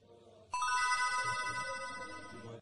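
A phone's ringtone starts abruptly and plays as a clear, bright, continuous melodic ring close to the listener for about two seconds, with only faint background sound beforehand.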